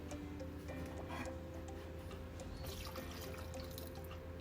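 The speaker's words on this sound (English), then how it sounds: "I'll put some water to it." Water poured into a pan of soaked dal for a kebab mixture, a steady close trickle and splash under a constant background hum, with no talking.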